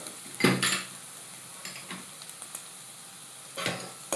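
Onions fry in a pan for chilli garlic egg fried rice, with a steady soft sizzle and a few scraping stirs of a utensil against the pan, close and without talk.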